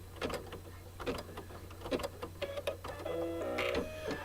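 An embroidery machine stitching an applique coaster in the hoop: rapid rhythmic mechanical clatter of the needle with whirring motor tones, close and steady, with no talking.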